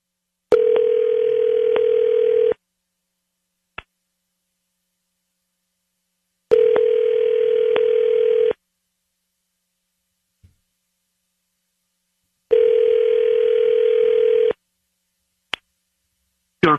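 A telephone ringback tone sounds while a number is called back, coming in three long evenly spaced buzzing tones, each about two seconds, with silence and faint clicks between them and no talking.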